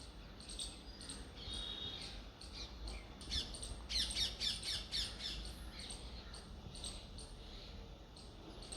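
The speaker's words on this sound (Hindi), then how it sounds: "यहाँ पे ना आपको चिड़ियों की आवाज़ इतनी अच्छी आती है" Faint, distant birds chirping and squawking in short high bursts, with a quick cluster of calls midway over quiet outdoor background.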